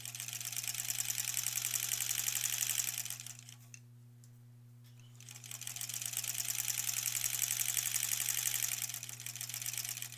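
An electric sewing machine stitches quilt pieces together in two fast, steady whirring runs with a brief pause between them, under a constant low hum.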